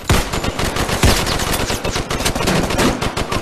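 Rapid machine gun fire in a video game rattles loud and close in continuous dense bursts, with no speech over it.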